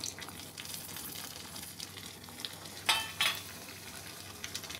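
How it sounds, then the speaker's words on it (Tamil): Mustard seeds sizzle steadily in hot oil close by while making Rameswaram kootu, with a couple of louder crackling pops midway and faint clinks of a utensil. "எண்ணெய் சூடாயிடுத்து கடுகு போட்டுக்கலாம்"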